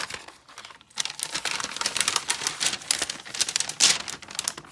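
Paper crinkling and rustling as it is handled and moved over fabric as a pressing cloth while laminating, a dense run of close crackles with a louder crunch near the end.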